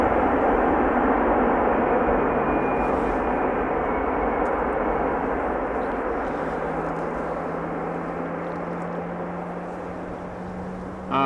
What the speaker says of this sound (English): can hear the reversers being applied.